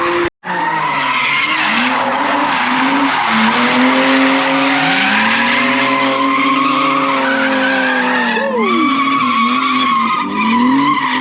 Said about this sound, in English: There's a 2JZ drift car and it's just come down the strip, and it clearly is set up as a drift car.